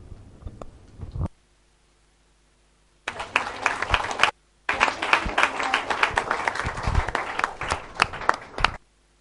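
Audience applause for speakers at a conference afternoon session, starting with a short burst of clapping, then a gap of silence before sustained, fairly close clapping resumes for several seconds and cuts off.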